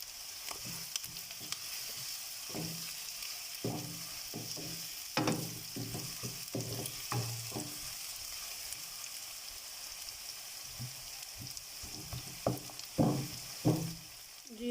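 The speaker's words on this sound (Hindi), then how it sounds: "इसको फ्राई होने देते हैं।" Onions frying for chicken karahi hiss in a steady broadband sizzle, broken by repeated scraping stirs and clunks of a spoon against the pan. No one speaks.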